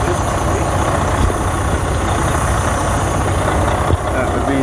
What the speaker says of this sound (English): That would be the air dryer.